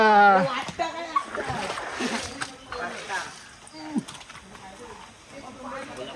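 Water splashes and sloshes around as people bathe in clear water at a waterfall, with voices talking over the splashing throughout.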